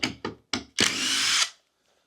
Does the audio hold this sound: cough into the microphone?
no